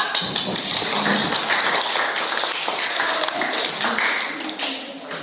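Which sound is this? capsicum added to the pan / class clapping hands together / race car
class clapping hands together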